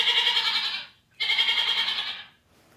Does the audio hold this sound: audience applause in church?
no